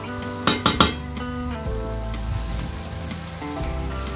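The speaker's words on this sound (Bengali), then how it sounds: "এবার এর মধ্যে আমি জল দিয়ে ঢাকা দিয়ে দেবো" Water hits a hot pan of sautéed greens, vegetables and spices, giving a steady loud sizzle, with a few sharp metallic clinks of a utensil or lid near the start and the frying hiss carrying on underneath.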